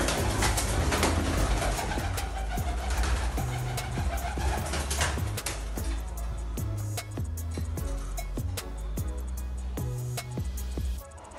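Old pigeons kept in a rural Punjabi loft coo in a low, repeated throbbing rhythm, close and steady throughout, with a constant outdoor hum behind them and no talking.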